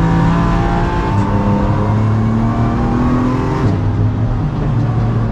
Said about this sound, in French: On va accélérer le plus tôt possible pour la ligne droite